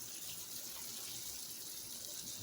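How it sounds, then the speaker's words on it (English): Water pours from a tap into a cooking pan to cover green salsa ingredients, a steady soft rushing flow throughout with no talk. "Now what I'm going to do is add some water, just enough to cover"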